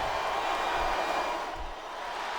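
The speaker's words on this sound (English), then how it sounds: "Listen to the crowd, JR." Dense roar of a wrestling arena crowd at a WWE Cyber Sunday 2007 event, steady and broad with a slight swell, fairly distant and without clear talk over it.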